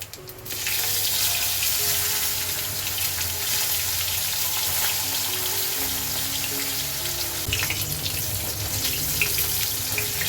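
Magur fish pieces frying in hot oil with five-spice seeds for a traditional Bengali fish curry, a steady sizzle and hiss running through the whole stretch at close range with no talk.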